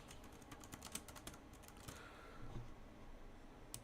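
Keys clatter on a computer keyboard in a quick, uneven run of faint, close taps, slowing into scattered presses, with no voices over them.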